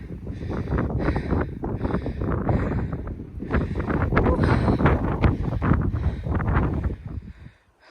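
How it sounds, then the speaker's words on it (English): Strong wind gusts buffet the microphone on a mountain trail, a loud continuous roaring rush that surges and eases for several seconds, then drops away at the end, with no talking. "Oh, windy."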